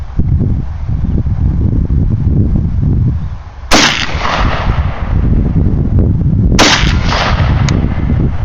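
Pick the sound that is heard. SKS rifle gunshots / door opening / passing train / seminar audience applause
SKS rifle gunshots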